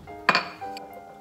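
A tablespoon picked up from among dishes gives one bright clink followed by a lighter second clatter, all within about a second.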